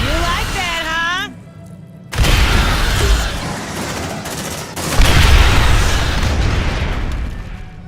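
A grenade goes off during a firefight in a cutscene of the game Aliens: Dark Descent, a sudden loud blast followed by sustained gunfire and a second heavy surge of explosions, after a voice is heard at the start.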